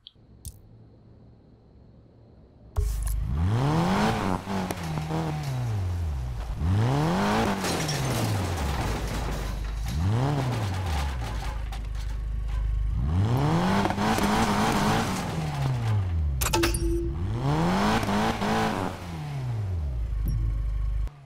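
Car driving off-road through fences and trailers in the video game Need for Speed Payback, engine roaring loudly with repeated rising and falling revs as it shifts gears, plus scattered clicks and tire noise.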